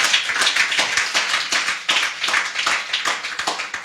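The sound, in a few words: congregation applauding to acclaim the Lord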